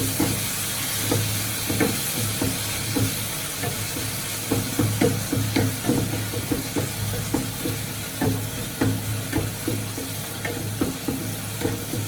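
Egg masala sizzling in a frying pan is stirred with a spoon, making a steady rhythmic scraping over a continuous close hiss.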